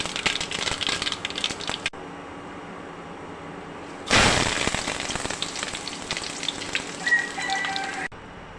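Mustard seeds splutter and crackle in hot oil in a pan, a dense popping sizzle like rain on a surface that comes in several stretches separated by brief quieter breaks.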